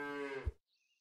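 A cow in the video game Super Auto Pets lets out a single short, clear moo, followed by a soft high chime-like tone, with no voices.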